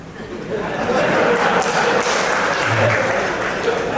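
An audience applauds during a speech in a large crowd, with loud, dense, sustained clapping and a little laughter mixed in.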